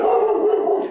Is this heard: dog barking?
yes